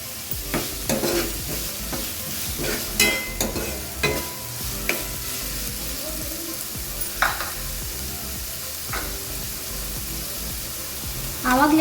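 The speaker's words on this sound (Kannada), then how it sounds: "ಈಗ ಒಂದು ಸ್ವಲ್ಪ ಒಗ್ಗರಣೆಗೆ ಹಾಕ್ತಿದ್ದೀನಿ" Tempering frying in a pan for a homemade vegetable pasta, with tomato among the ingredients: a steady close sizzle with clatters of stirring and scraping throughout, louder bursts near the end.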